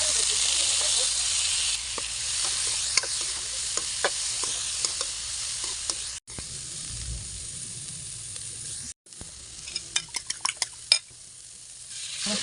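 Onion and garlic sauté in a hot pan, giving a loud steady sizzle with scattered pops and crackles, close by and with no talking.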